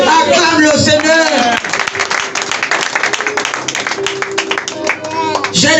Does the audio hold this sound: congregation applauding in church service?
yes